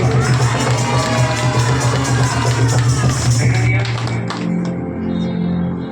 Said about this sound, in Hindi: जोर से तालियों के साथ बोलो हालेलुया